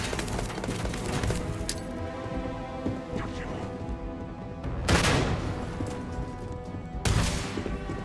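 Gunfire in the sci-fi shooter Starfield: heavy bursts of shots and booms come in thick rolling waves, with two louder crashes standing out over a dense layer of game noise.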